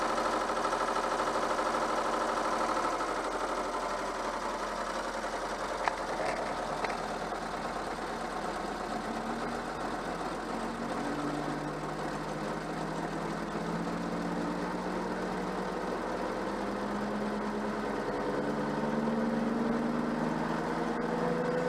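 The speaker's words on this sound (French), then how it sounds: "Alors ça, c'est un bruit de cardan, ça, hein." A Peugeot 104 GLS with a worn drive shaft CV joint, heard as a steady engine and transmission drone with a faint rhythmic whirring that rises in pitch as the car gains speed, with no talking.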